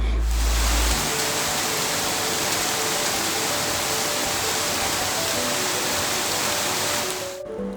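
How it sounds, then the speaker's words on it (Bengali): Heavy monsoon rain and storm wind pour outside a balcony, forming a dense, constant, loud roar that fills the space, with no voices over it. "বাইরে এতটা পরিমাণে বৃষ্টি হচ্ছে"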